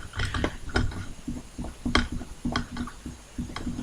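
Small Phillips head screws being backed out of the pistol grip of a JG MC51 airsoft gun, with close, faint clicks and ticks of the screwdriver and metal parts at an uneven rhythm.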